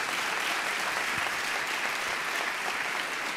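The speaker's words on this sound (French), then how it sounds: "Et applaudir." An audience at a science and religion debate claps together in a dense, steady round of applause that holds at an even level throughout.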